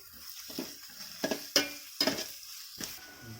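Onions with salt sautéing in a pan for beef biryani, a faint sizzle under a few stirring scrapes and light clinks of a utensil against the pan, with no voices.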